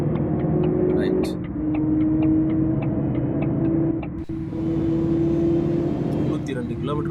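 A bus cruises at 92 km/h in the video game Bus Simulator Indonesia, giving a steady engine hum and tonal drone with brief pitch shifts, while someone talks over it.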